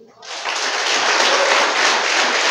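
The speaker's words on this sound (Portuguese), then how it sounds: "Eu quero que você aplaude ao Senhor" Church congregation at a Nazarene service applauding, a sudden swell into loud, sustained, even clapping close around.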